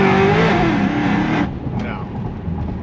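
An 850 hp Cadillac CTS-V accelerates hard with a loud, rising engine roar and spinning tires, then the roar drops off as it eases, with people talking over it.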